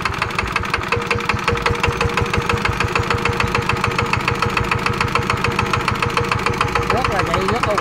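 A Zanma NS 110 engine runs steadily with a rapid, even knocking thump, close and loud, its rhythm unbroken for the whole stretch.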